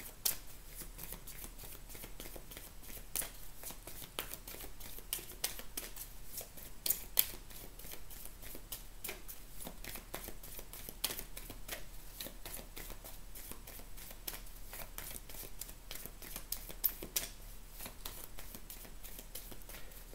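Oracle cards from the Dark Goddess deck are shuffled continuously, a soft, close, steady riffling and flicking of cards with no voices.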